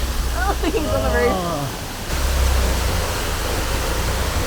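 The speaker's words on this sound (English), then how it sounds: "It's not very often you get to drive a boat into a waterfall." Loud, steady rushing roar of a waterfall on the Ord River heard from a boat nosing up to it, with a voice briefly talking over the noise early on before the roar swells.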